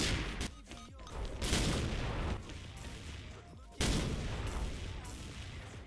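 Rapid gunfire rattles through the shooter game XSHOT, dense bursts of shots with a sharp loud volley near the end, and someone talks over part of it.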